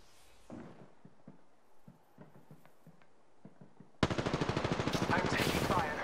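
Automatic gunfire in the Apex Legends video game bursts in after several seconds of quiet game sounds and footsteps, a loud rapid rattle of shots continuing to the end.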